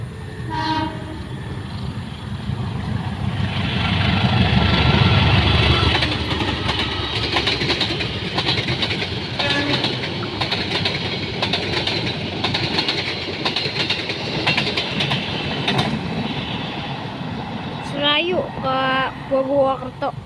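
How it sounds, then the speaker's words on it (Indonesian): The Purwojaya train to Gambir passes from the right at night in Tambun, West Java, a long loud rumble and clatter of carriages with horn blasts near the end, under a voice. "Purwojaya ke Gambir. KA dari arah kanan."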